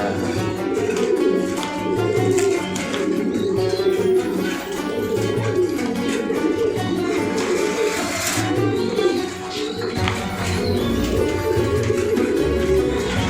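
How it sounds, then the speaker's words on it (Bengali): Sheikh Shali breed pigeons, a rare Bangladeshi breed, coo steadily in a loft, with several birds overlapping in a continuous, fairly loud murmur and no talking. "শেখ শালির আর একটা কালার খুবই সুন্দর একটা ব্রিড বাংলাদেশ একেবারে রেয়ার ব্রিড"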